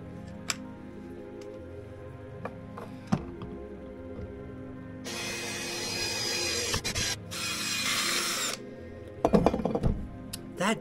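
A power drill with a blunt bit whirs steadily for a few seconds while boring a hole in a pipe, stopping and restarting, with scattered clunks and taps of handling before and after.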